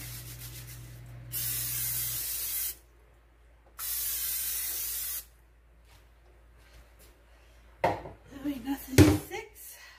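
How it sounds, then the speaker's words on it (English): Two bursts of aerosol cooking spray hiss onto the bottom of a casserole dish, each lasting over a second with a short pause between, followed by clattering handling noises. "we're going to go ahead and spray the bottom of our casserole"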